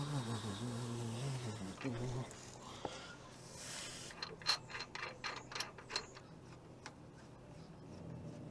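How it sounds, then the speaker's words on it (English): A ratchet slackens the T45 screw on the crankshaft sprocket of a 2011 Relay campervan during timing chain work, giving a run of quick, close clicking pawl strokes after some muffled talk and handling. "I'm just going to slacken the T45 screw which is holding the crankshaft sprocket on"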